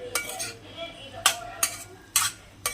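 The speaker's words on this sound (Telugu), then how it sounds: "మంచిగా మిక్స్ చేసుకోండి" Spoon scrapes and clinks against a pot while eggplant and prawn curry is stirred, with five sharp metallic strikes at irregular intervals over a faint sizzle.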